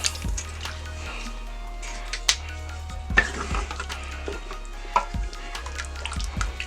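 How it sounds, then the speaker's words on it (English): Worcestershire sauce stirred around inside a Power Pressure Cooker XL pot for cube steak, close scraping and clinking of a utensil against the pot with a low hum underneath and scattered knocks. "stir that around in there"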